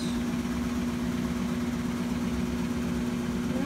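A washing machine runs fast in its spin cycle, giving a steady, loud motor hum with a strong low tone and continuous mechanical whir, close and unbroken throughout.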